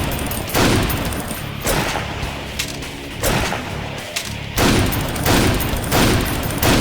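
A double-barrel shotgun fires in the video game Painkiller: loud, booming blasts, roughly five of them about a second apart, each trailing into a dense rumble that keeps the space filled between shots.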